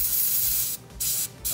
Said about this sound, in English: you can just spray air with this thing.